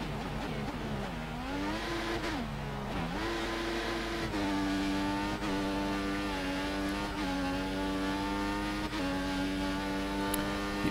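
A Formula 1 car in the F1 2014 racing game on a fast lap at Bahrain, its engine screaming at a steady high pitch through long gear holds, with a few quick upshifts and dips, loud and continuous.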